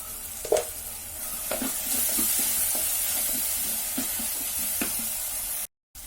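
Small pieces of chicken fry with spices and chilli flakes in a pan for a Kerala chicken dish, giving a steady moderate sizzle with periodic soft scraping taps of stirring, ending in a brief dropout.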